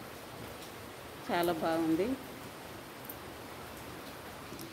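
A steady soft hiss of rain falls outside, with a person speaking briefly near the middle over it.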